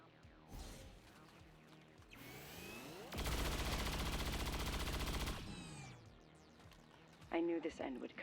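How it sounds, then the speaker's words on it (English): Turret rapid fire in XCOM 2 Long War, a loud sustained burst of dense automatic shots lasting about two seconds, with other game sounds before and after and a voice talking over parts of it. "Up and rapid fire the turret"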